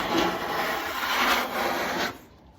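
Grease being scraped off kitchen cabinets, a steady close rasping scrape running for about two seconds in a few strokes before stopping.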